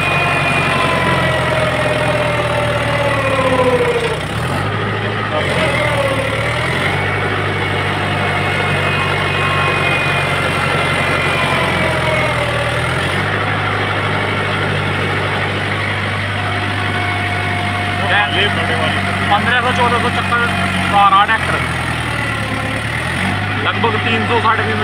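A Mahindra 575 DI XP tractor engine runs steadily while pulling a tiller, a loud, continuous diesel rumble with slight dips in pitch. Voices are heard intermittently over it.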